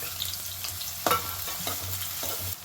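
Onions and green chillies fry in hot oil, a steady close sizzle with a few sharp spoon scrapes and stirring knocks against the pan; no one speaks.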